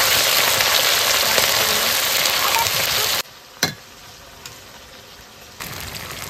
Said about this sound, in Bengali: আদা রসুনটা একটু ভেজে দেবো